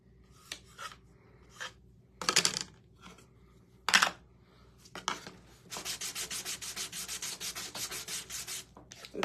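Sandpaper scrapes over a handmade crow figure, starting with scattered short strokes and then settling into a quick, steady back-and-forth rhythm, close and fairly quiet.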